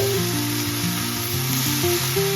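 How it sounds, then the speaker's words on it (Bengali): Cauliflower stalk charchari sizzles briefly as it is stirred in a frying pan, a steady close hiss with a melody running beneath. "এটাকে আমি একটু ভালো করে নাড়াচাড়া করে নেব"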